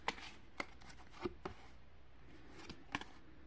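Oracle cards being shuffled and drawn by hand indoors: faint, soft papery flicks and light taps in an irregular rhythm, quiet and close with no talking.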